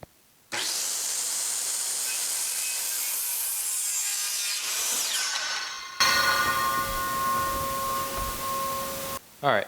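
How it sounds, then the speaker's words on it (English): A circular saw cutting wood at a 45 degree bevel, a steady loud whining buzz as the blade passes through the board, then a shifting tone with a lingering hum before it winds down. "the blade will pass through my material at a 45 degree angle"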